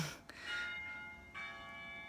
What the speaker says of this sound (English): This is the church bell right in front of me.